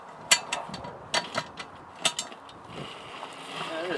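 A cast-iron Dutch oven cooking a Cornish game hen is turned on its base, giving several close, heavy metallic clunks and scrapes followed by a soft grinding rub.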